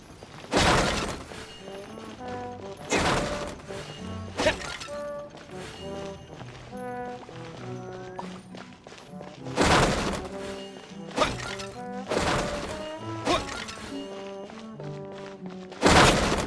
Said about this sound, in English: Can't you destroy the boxes a little more quietly?